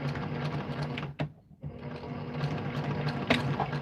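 A sewing machine runs steadily, stitching a double seam on a holiday sewing project, with a brief pause midway before the steady motor hum and needle clatter resume close by.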